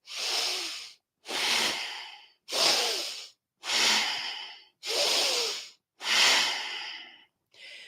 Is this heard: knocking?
no